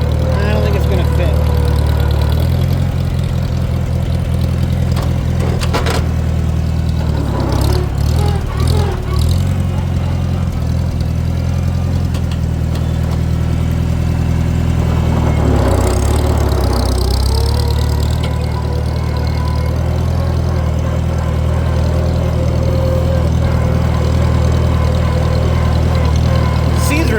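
Small Farmall C farm tractor engine running steadily throughout at a loud, close, constant idle, with some shuffling and knocking noises layered over the drone.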